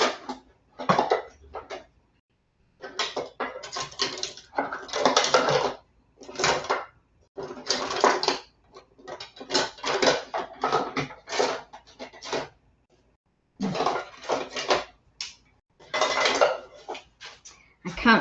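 In a kitchen, metal utensils, pots and pans clatter and jangle in repeated bursts as someone rummages for tongs, with short quiet gaps between the handfuls.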